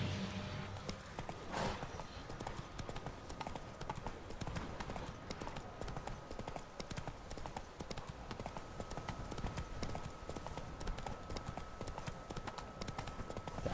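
Horse hooves clip-clop in a steady walking rhythm over a constant background ambience in the video game The Witcher 3: Blood and Wine, with no voices.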